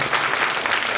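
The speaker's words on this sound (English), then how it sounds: "and a round of applause for them" Brief burst of audience applause for Pasadena police officers at a community meeting, steady dense clapping filling the whole moment.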